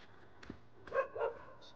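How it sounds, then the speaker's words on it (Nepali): Dogs on a hillside bark at a passing worker: a few short, faint, distant barks over quiet background hiss. "जहिले भुक्छ यो कुकुरहरूले मलाई।"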